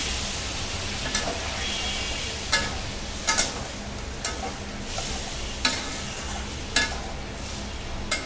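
A prawn curry with added water sizzles steadily in the pan, broken by periodic sharp scrapes and clacks of a spoon stirring against the metal, close and fairly loud.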